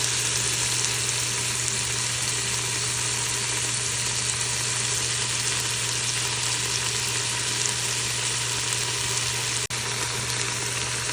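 Lamb pieces with bones frying in a pot over sautéed onions for ghormeh sabzi, giving a steady, even sizzle that holds throughout with no talking, broken only by one brief sharp click near the end.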